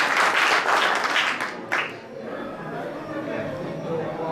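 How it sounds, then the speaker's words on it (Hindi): A crowd applauds loudly at a ceremony honouring wrestlers in Mewat, Haryana, the dense clapping fading after about two seconds into murmuring chatter and a voice. "जोरदार ताली।"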